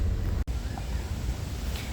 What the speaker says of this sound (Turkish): Bayağı bir esiyor şu an rüzgar var.